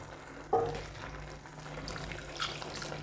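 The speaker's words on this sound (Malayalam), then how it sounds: "പുളിവെള്ളം ഒഴിച്ചു കൊടുക്കാം." Tamarind water poured into a theeyal curry, a Kerala Onam dish made with finely ground coconut paste: one short splashing pour starting abruptly, then a low liquid trickle over a steady background hum.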